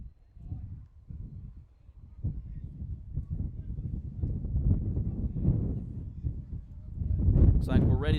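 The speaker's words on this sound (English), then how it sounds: "the wind is really gusting now out of the southeast" Wind gusting from the southeast at a college baseball game buffets the microphone in heavy low rumbling bursts that build toward the end, with no clear talk.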